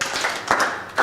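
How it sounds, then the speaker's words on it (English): Clapping from an audience at a legal education conference in Kenya, a few sharp, uneven claps in a short burst with no talking. "clap for him"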